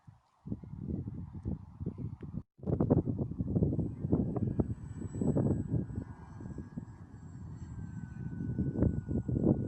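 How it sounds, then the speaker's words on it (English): Small model airplanes' buzzing propeller engines whine overhead, with bursts of chatter and wind noise; a thin high-pitched motor tone drifts steadily through the scene. "See all the boys with their little baby planes."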